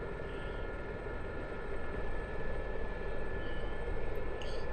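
A Gazelle helicopter's engine and rotor in the DCS flight sim drone steadily at takeoff, a continuous, fairly loud turbine whine and broadband rumble that swells slightly midway and runs alone without talk.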